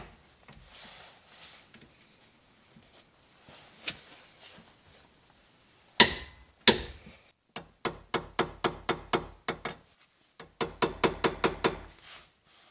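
Ratchet wrench tightening the bolts on a JDM-swapped 2.5RS car, heard as close, crisp runs of rapid clicks in several bursts, with a few knocks and quiet handling noise before.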